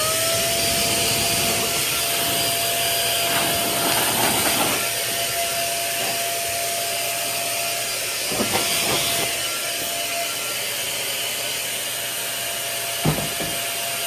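Steady loud rushing hiss from a SIN SHINE Compressed Air 3.0 electric air blower, running continuously with a constant whine and a few brief bursts and knocks along the way.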